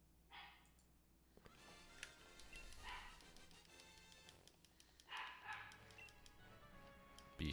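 A dog barks indoors at night, a few separate sharp barks spaced out over several seconds, heard at a moderate distance from the room with a quiet background hum and no talking.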